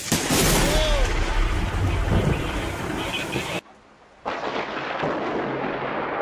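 Thunder in a severe thunderstorm: a loud, broad rumbling roar that drops away abruptly for a moment, then rolls back in and continues steadily.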